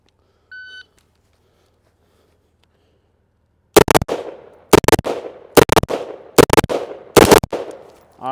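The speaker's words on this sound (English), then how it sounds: "Let's shoot that one more time" Rifle shots ring out in a string of sharp, loud cracks, mostly in quick pairs, each followed by a short decaying echo outdoors, after a brief electronic beep and several seconds of near silence.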